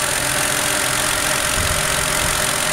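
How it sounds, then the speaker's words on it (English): A 2008 Ford Fusion's 3-liter V6 idles steadily, a continuous close mechanical hum with a faint ticking texture and no voices. "Again, it is a six-cylinder. It's a 3-liter of V6 currently running,"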